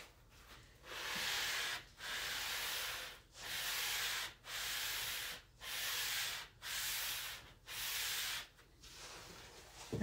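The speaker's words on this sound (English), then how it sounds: "And then after I get them all sanded" Wooden parts for Shaker-style built-in cabinets being power-sanded, a steady abrasive hiss in repeated passes of about a second each, separated by brief pauses, close and fairly loud with no talking.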